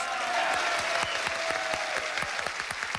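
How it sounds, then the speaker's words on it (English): A game-show studio audience gives a sustained round of applause, dense, even clapping from many hands close by, with a faint tone running underneath. "Let's just give them a nice round of applause."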